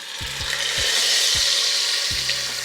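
Avocado oil heats over high heat in a Dutch oven, giving off a steady close hiss and sizzle while a few low thumps sound beneath it.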